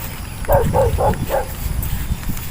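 A dog gives a short run of four quick barks or yelps outdoors, moderately close, amid background noise.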